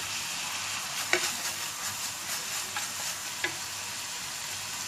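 Green chillies frying over low heat in a pan while fried rice is being made, a soft, even sizzle with a few light utensil taps, fairly quiet and without talk.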